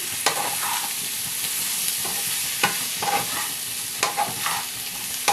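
Boiled potatoes sautéing with spices in a pan, constant bright sizzle punctuated by several sharp spatula scrapes and stirs at uneven intervals, close and clear with nobody talking.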